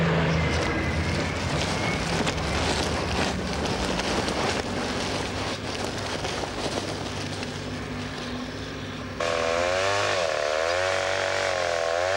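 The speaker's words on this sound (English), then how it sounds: "As in all South American forests, the chainsaw has replaced the axe." A chainsaw cuts trees in a South American forest, its loud, rough motor drone running continuously near the microphone before shifting to a higher revving whine toward the end.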